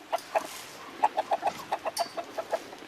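Chickens clucking in short, irregular bursts, a dozen or so soft clucks close by, with no talking.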